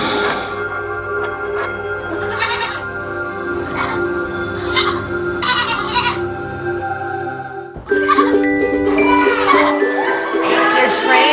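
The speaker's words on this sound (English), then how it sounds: "They're trained yoga goats." Goats trained for yoga bleat repeatedly in short, wavering cries during a live televised pageant segment, some overlapping, over steady background music and crowd noise that rises near the end.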